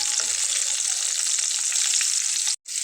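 Eggplant slices fry in a pan with a loud, steady crackling sizzle that runs without pause, broken only by a brief drop near the end.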